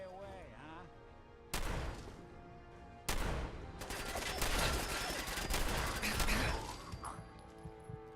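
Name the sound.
gunfire from the video game Fallout 4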